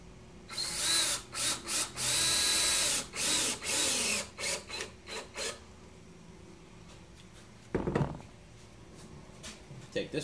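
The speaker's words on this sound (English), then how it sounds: "I'm just going to stick one screw in right now to take the place of this clamp" A power drill drives a screw into pallet wood in a series of short whirring bursts, close and loud, then pauses before one brief final burst with a quieter knock.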